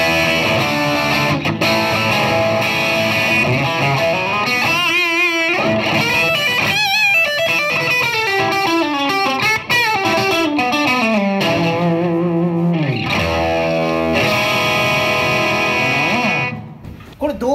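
An electric guitar played through a distortion effect rings out loud and close, with sustained overdriven chords and bending, vibrato-laden notes, ending with a fade.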